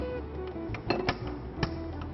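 A metal kadai is set down on a kitchen stove, a few short clinks and knocks at close range over a low background hum.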